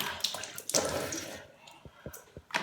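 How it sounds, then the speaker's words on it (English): Lukewarm water splashes as hands rinse aloe vera off a face, soft wet sloshes and trickles close by, several splashing bursts with brief pauses. "lukewarm water is going to be perfect to wash this off"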